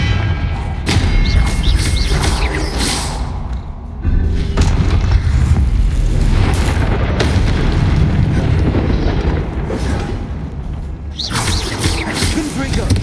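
Confringo blasting spells go off in Hogwarts Legacy as loud, rumbling explosive booms and thuds. The blasts come in overlapping bursts with mechanical clatter, and game combat noise runs beneath them throughout.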